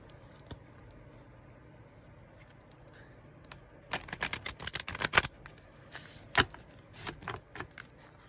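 A deck of Angels and Ancestors oracle cards is shuffled, bursts of crisp rapid riffling and tapping close by after a quiet start, then a few shorter card shuffles and slaps.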